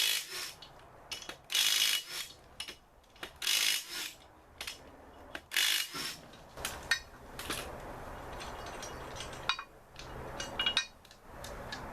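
Ratchet wrench working loose the 19mm wheel lug nuts on a Honda Accord wagon in a home garage, giving several separate bursts of bright clicking ratcheting, close up, with quieter scraping and handling noise in the pauses.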